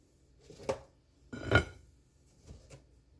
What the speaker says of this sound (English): just plating it on a serving dish now